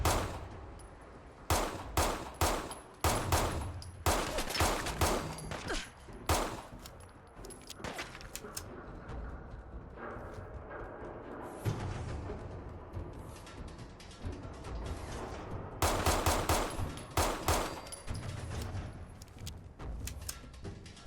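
Gunfire in the Fallout 4 video game: repeated bursts of loud, rapid shots in clusters, separated by quieter stretches of ambient noise and then a final heavy volley, with no talking.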